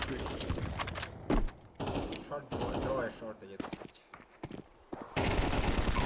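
Video game gunfire rattles in loud automatic bursts separated by short gaps, with a player's voice talking over the shooting.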